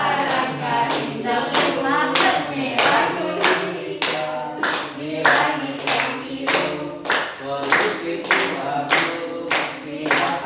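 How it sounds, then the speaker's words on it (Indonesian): A classroom group clapping hands together in a steady, unified rhythm, many claps per second, loud and close, with little talk over it. "Tepuk tangan dong."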